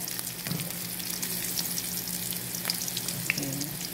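Corn kernels sautéing with half-fried onion, ginger and garlic in a pan, a steady close sizzle and crackle with a few light stirring scrapes and no talking.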